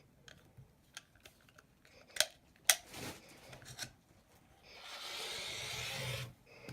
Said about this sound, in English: We're gonna cut diagonally from corner to corner.